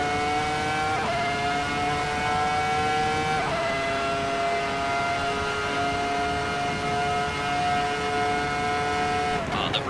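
A Ferrari F2004 Formula One car in a Kunos racing game screams at high revs, its sustained whine stepping up through several quick gear changes across the run, loud and alone.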